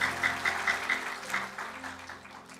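Congregation clapping in encouragement during a Korean church worship service, fairly soft and somewhat distant, with a loose rhythmic pulse over a low room hum.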